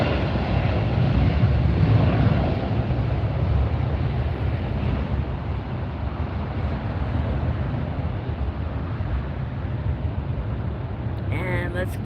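Delta jet taking off at LAX, a steady broad engine roar with wind rumble that fades slightly across the span, heard from a spotting position near the runway.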